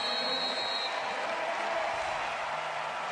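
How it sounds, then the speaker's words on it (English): Applause from the American wheelchair rugby team as the Paralympic bronze medal final ends at London 2012, a steady wash of hand claps with crowd noise, sustained and fairly distant throughout. "So clapping by the American team there."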